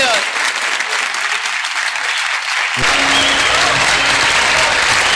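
A crowd claps loudly and steadily at a Turkish folk music event, the applause swelling fuller partway through with a low hum joining underneath.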